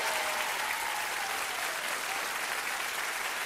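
Steady, dense audience applause in a TV cabaret studio, loud and continuous throughout with no break, a full room clapping together.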